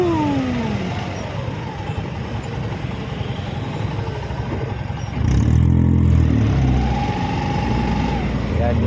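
Heavy road traffic hums and rumbles nearby, with trucks and cars idling and passing, brief engine revs, and a louder vehicle surging close partway through.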